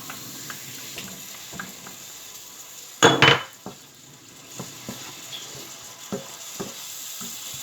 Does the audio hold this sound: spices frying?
yes